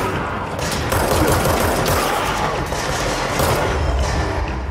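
Dense, rapid gunfire from the video game Control rattles continuously for several seconds, loud and close, with thumping impacts mixed in.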